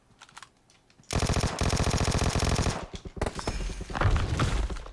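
Vector submachine gun in PUBG Mobile fires loud rapid bursts, a dense sustained volley for about two seconds, then a pause and more scattered shots mixed with other game noise.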